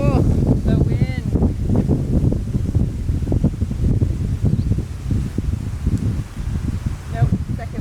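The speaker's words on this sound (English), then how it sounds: "Whoa, the wind." Strong wind gusting outdoors in a homestead tomato garden, roaring and buffeting the microphone steadily throughout, with a person speaking briefly over it.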